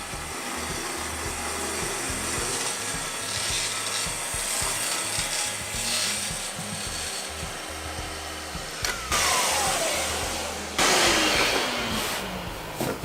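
A Festool TS track saw rips through a thick slab door, a continuous loud whining, rasping cut that holds steady and then swells as the blade finishes the pass.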